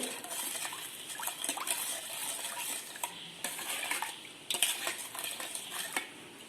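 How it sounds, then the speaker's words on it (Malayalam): Rava dough for stovetop biscuits is mixed with boiled milk in a bowl, producing close, uneven scraping and soft clinking of a spoon against the bowl with wet squelchy stirring, continuous and without speech. "നല്ലോണം മിക്സ് ചെയ്ത് വെക്കുക."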